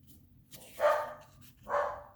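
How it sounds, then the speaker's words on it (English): Two sharp barks from dogs at home, one after another about a second apart, heard at moderate distance in an otherwise quiet room. "Oh, there go my dogs."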